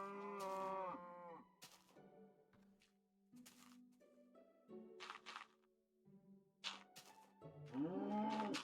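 A Minecraft cow lowing repeatedly, several drawn-out moos near and fairly loud, spaced apart with short quiet gaps between them.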